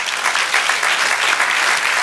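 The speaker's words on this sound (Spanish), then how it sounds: "Dale un aplauso al Señor." A church congregation claps steadily in a dense, loud wash of applause that holds evenly throughout without pause.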